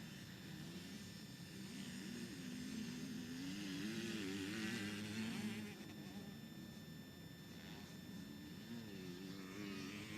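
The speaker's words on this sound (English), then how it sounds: "Youth 125 class getting revved up. I can feel the blue haze of the two strokes getting ready." Youth 125cc two-stroke motocross bikes rev at a dirt track event, a continuous buzzing engine drone swelling and easing as several machines blip their throttles, moderately distant and steady throughout.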